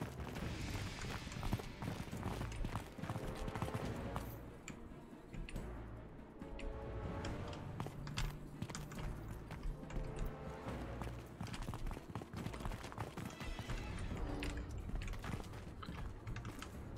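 Faint, dense clatter of many horses' hooves during a Mount & Blade: Bannerlord battle, a continuous galloping rumble with scattered clicks and no clear pauses.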